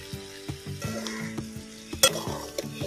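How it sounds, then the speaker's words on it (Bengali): A spoon stirring thick gravy in a pan, rhythmic scraping strokes about every half second over a low sizzle, with one sharp clink near the end. "2 মিনিট নাড়াচাড়া করে রান্না করে নিলাম।"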